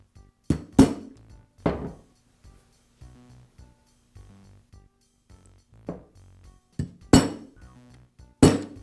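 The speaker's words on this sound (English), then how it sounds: "I'll place them onto the pin, and then I'm going to use a small socket to just tap them into place." A small socket taps retainers onto a pin while a Bostitch nailer is rebuilt with its repair kit: about seven sharp, close metallic clinks in irregular clusters, with quiet pauses between.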